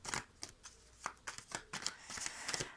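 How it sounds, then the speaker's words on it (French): Playing cards shuffled by hand in a series of crisp riffling bursts and flutters, fairly close, with quiet gaps between the bursts and no talk. "Alors, je sors les cartes"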